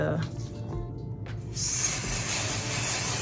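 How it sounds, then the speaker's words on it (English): Melting spray, an aerosol, is sprayed onto a lace frontal while it is styled into a ponytail. A steady, close hiss starts partway through and runs to the end. "this melting spray"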